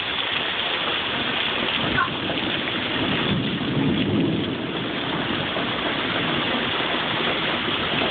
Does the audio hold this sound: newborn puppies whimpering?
no